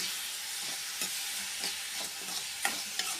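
Rice roasting in a hot, dry iron pan and being stirred, giving a steady faint sizzle with soft scraping strokes and a few sharper clinks, close by and without any talk.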